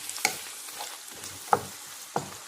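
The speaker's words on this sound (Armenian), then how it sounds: "Թողնենք սոխը մի քիչ տապակվի" Chopped onion fries in a pan with a soft, quiet sizzle, broken by three sharp clinks of a utensil stirring against the pan.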